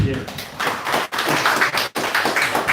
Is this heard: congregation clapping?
yes